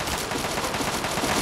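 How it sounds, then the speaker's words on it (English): Gunfire aimed at the player in the video game Fallout 3, a steady burst of rapid automatic shots that stays loud and close throughout a short stretch. "Who the heck else is shooting us?"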